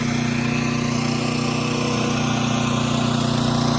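A whole home generator engine runs at a steady, loud drone with an even mechanical hum that holds without change throughout. No one speaks.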